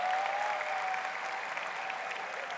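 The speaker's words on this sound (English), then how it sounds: "Yeah, you can applaud that." A live talk audience breaks into brief, dense applause, an even rush of many hands clapping with no voice over it.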